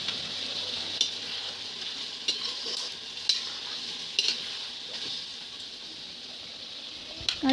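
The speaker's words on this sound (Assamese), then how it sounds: "আগতীয়াকৈ মই নিমখ আৰু হালধি দি অলপ ভালকৈ ভাজি ল'ম মাংসখিনি।" Duck meat frying in a pan with salt and turmeric, a steady close sizzle with scraping stirs and a few clinks of a spoon against the pan.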